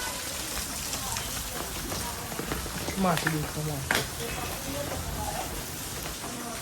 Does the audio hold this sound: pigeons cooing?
no